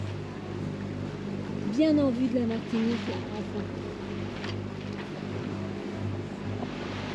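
A sailboat runs under its engines off Martinique at about seven knots, with a steady low motor drone and water wash throughout while someone talks briefly over it.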